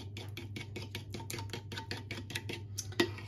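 Vanilla essence being mixed into a donut batter in a bowl, a quick, regular series of soft tapping strokes from the whisking, close and quiet over a low hum, with no talking.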